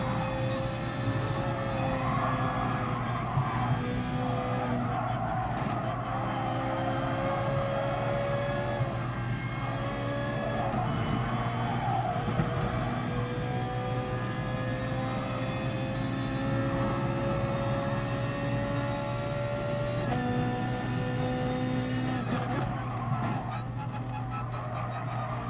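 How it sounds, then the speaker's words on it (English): A Ferrari 458 race car in Gran Turismo Sport drones steadily on the Le Mans circuit through fast sweeping bends, a constant loud engine tone with gentle pitch shifts and no talking. "the 458 is very good, mid-engine, through these fast sweepers"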